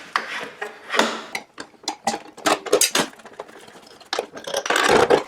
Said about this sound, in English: The first step of the process is going to be to remove the existing blade. I'm going to be removing the riving knife.